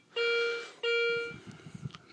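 Two sustained electronic tones from a Minelab X-Terra 705 or Garrett Ace 250 metal detector responding to a British 2p coin in an air test, each about half a second, close and clear, followed by faint handling noise.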